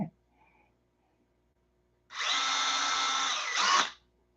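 A handheld power drill whirs steadily for about two seconds, then revs higher briefly before stopping, loud and close after a quiet start.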